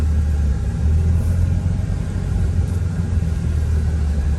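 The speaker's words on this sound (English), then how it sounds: "Now we're going to take it on a test drive and just see how this feels." Steady low rumble of a Dodge truck's engine and road noise on a test drive after a steering upgrade, heard from inside the cab at even loudness with no talking.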